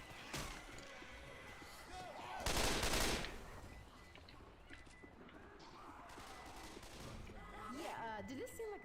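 Video game gunfire in Left 4 Dead 2 comes as bursts of rapid shots and sharp impacts, with a loud blast in the middle, mixed with game sounds and players talking.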